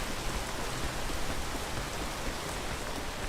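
Rain falls while a character climbs in the video game Peak, a dense, loud, unbroken hiss of rain with a constant level throughout.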